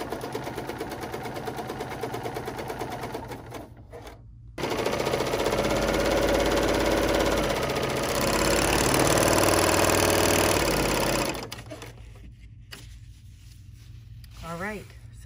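A Bernina L 890 overlock machine sews a combined chain and three-thread overlock stitch on canvas, a loud steady mechanical whir that runs in two stretches with a short break, a voice talking around it.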